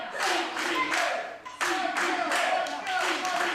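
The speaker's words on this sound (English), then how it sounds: "And listen to the crowd here. They're coming alive for CPA." A wrestling event crowd claps in loud, rhythmic bursts, with repeated rounds of hand claps pausing briefly midway before resuming; a commentator's voice runs faintly underneath.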